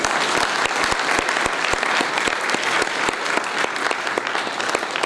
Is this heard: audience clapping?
yes